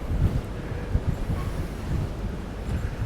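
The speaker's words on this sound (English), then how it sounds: "And it's very, very windy up here." Wind buffets the microphone in rumbling, uneven low gusts, a continuous roaring blast with no voices.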